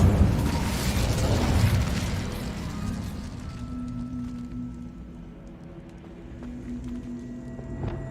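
An Incendio fire spell in the video game Hogwarts Legacy erupts in a loud burst of roaring flame up front, then fades into a lower crackle and hum with faint clicks.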